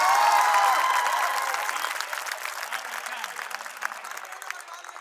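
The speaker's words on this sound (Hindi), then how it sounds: "एवं भरपूर तालियों से स्वागत है" An audience at a Hindi poetry gathering (kavi sammelan) claps in a loud burst that gradually thins and fades over a few seconds, with light crowd murmur underneath.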